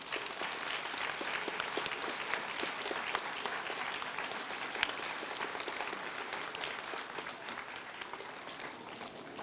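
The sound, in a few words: students and staff applauding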